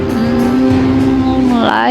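Video game car driving across a desert, a steady engine drone holding one pitch, then a rising rev near the end, loud and continuous throughout.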